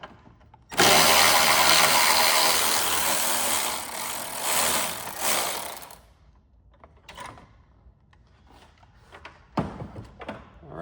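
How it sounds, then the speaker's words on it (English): A socket tool loosens bolts near the horn of a Jaguar XJ, with a loud sustained mechanical whirr for about five seconds, then scattered clicks and clanks as the parts are handled. "just make a little bit of space so we can get the socket in."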